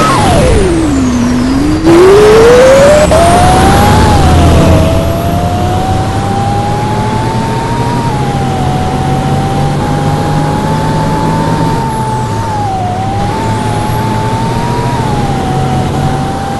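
A Volvo B7TL ALX400 London bus in Roblox keeps up a loud, continuous engine drone that rises in pitch as it pulls away and holds steady while cruising. No air brake release is evident.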